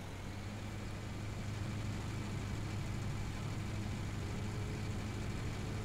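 Tractor engine in a French farming video game drones steadily at a low, even pitch throughout, loud and close with no talk over it.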